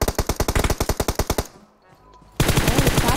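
Automatic gunfire in the PUBG Mobile shooter game: a rapid burst of about fifteen evenly spaced loud shots, a short lull, then another dense volley, all close and punchy.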